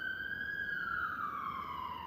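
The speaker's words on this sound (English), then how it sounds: "You hear the sirens?" A single emergency vehicle siren wails in one long tone that slowly drops in pitch, heard at a distance and fairly faint over a low background hum.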